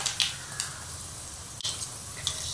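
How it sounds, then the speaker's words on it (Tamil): Hot oil sizzles continuously with scattered sharp pops and crackles of mustard seeds spluttering in a pan, close and fairly quiet. "கடுகு நல்லா பொரியட்டும்."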